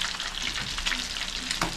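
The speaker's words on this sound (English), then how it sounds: "Fish is frying." Fish sizzling and crackling in hot oil for Colombian fried fish, a dense close frying hiss with small pops throughout.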